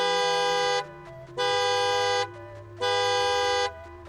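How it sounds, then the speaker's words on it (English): Car alarm from the FNAF Midnight Motorist minigame, a loud electronic horn-like tone blaring in three long sustained blasts with short gaps between, over a low background tone, with no talking. "In connection with this, a car alarm is heard."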